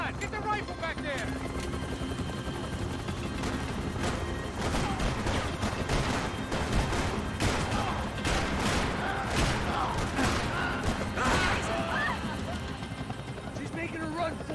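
Rifle fire cracks in repeated bursts during a Max Payne 3 firefight, set against a dense, constant helicopter rotor roar, with voices talking through the action.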